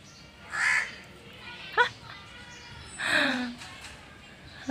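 A crow caws a few times at moderate distance, separate harsh calls with pauses between, over faint background noise.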